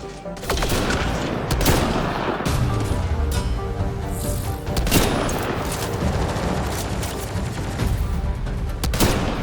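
Sustained automatic gunfire and heavy weapon bursts from a sci-fi shooter battle in Mass Effect: Andromeda, loud and dense throughout with brief booms and crashes mixed in, no pauses.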